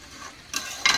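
Oil in a pan during frying of palang chicken in a home kitchen: short bursts of hissing sizzle that rise sharply after a quiet start, brief and close.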